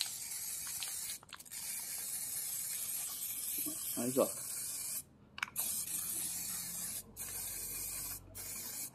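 An aerosol can of primer spray paint hisses steadily while coating a car wheel, a loud continuous spray broken by a few brief stops, with someone talking briefly over it.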